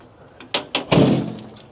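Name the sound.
heavy door of an old army truck closing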